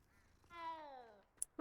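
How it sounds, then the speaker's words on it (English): A cat in the video game Hogwarts Legacy gives one short meow that falls in pitch, quiet and clear against near silence, followed by a couple of faint clicks. "we got a meow as well"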